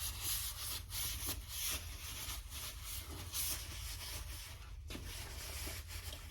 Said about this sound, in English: Give it a good wipe down, kind of get all that sand dust off.